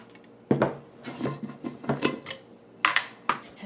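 A butter knife fished out of a cutlery drawer while baking chocolate chip cookies: a run of close metallic clinks and rattles with wooden knocks from the drawer, in irregular bursts, no talking.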